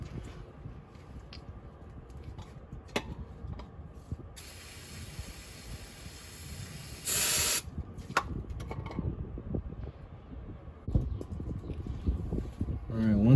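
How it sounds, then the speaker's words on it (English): Aerosol brake cleaner hisses in a steady burst onto bolts of a Dodge Challenger, then another short sharp burst, amid clinking tools and a voice talking. "I usually spray some brake clean on the bolts."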